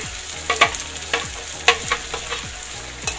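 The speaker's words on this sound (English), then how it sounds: "Our tomato puree, I've just blended my tomatoes. And that's what I'm adding here." Blended tomato puree hitting a hot pan for egg stew, with a steady sizzle and bubbling crackle and several sharp stirring scrapes, close up with no voices.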